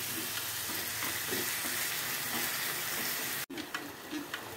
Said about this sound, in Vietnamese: Mình xào thịt lên cho thịt nó săn lại.